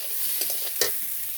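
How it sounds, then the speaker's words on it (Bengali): Olives for pickle fry lightly in a pan, a faint brief sizzle with a couple of soft stirring scrapes, no voices. "একটু হালকা করে ভেজে নিই"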